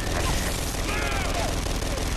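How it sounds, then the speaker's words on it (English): Gears of War 3 Horde mode gunfire striking the player: dense, continuous rattling fire and impacts filling the whole stretch, loud and close with a player's voice talking over it. "Shoot, I'm being shot."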